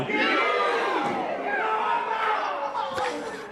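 A wrestling arena crowd roars and jeers at a wrestler, dense loud chatter and shouting from many voices throughout.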